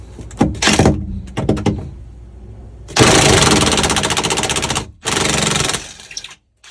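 A pneumatic impact gun breaks loose corroded motor mount bolts on a 2006 Yamaha FX Cruiser jet ski, with short ratcheting bursts early on, then two long loud hammering runs separated by a brief pause.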